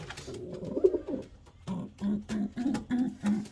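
A racing pigeon hen coos nearby, a soft throaty call followed by a steady series of about five rhythmic low coos.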